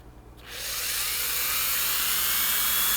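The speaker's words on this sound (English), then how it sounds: "All right, so here's Dremel speed 1." Corded Dremel rotary tool spinning up at its lowest speed setting, a steady, close, high-pitched whine that starts abruptly and holds constant with no talking.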